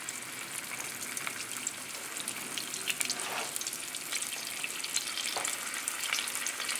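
Flour-coated chicken thighs fry in extra virgin olive oil, giving a steady, close crackling sizzle with faint spitting pops and no voices.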